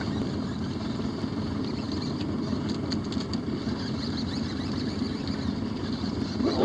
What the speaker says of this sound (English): Boat is running.